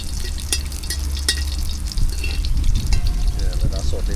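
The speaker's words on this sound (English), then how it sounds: "Yeah, let us saute for a minute or so." Garlic sautés in hot oil for a Trinidad curry, crackling and sizzling steadily with sharp pops and a few stirring scrapes, close and fairly loud.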